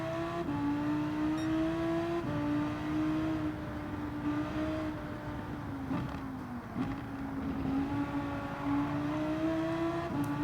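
Race car engine in the video game Gran Turismo 7, a sustained whining drone that rises and dips with gear changes and throttle, steady and fairly loud throughout with no one talking.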